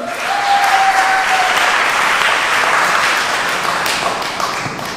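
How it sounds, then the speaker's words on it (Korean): Wedding guests applauding in the ceremony hall to welcome a friend giving a congratulatory speech, a loud, sustained round of clapping that holds steady for about five seconds before easing slightly. "큰 박수로 맞이해 주시기 바랍니다"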